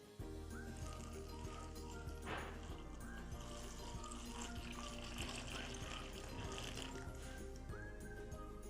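Tap water pours into a mixing container for springroll wrapper batter, a steady, fairly quiet trickle and splash running throughout.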